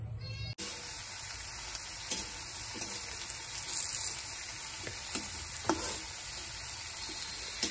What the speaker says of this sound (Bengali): এই যে কড়াই বসিয়ে দিয়েছি, তাই চলো আমি আলু ভাজাটা করে নিই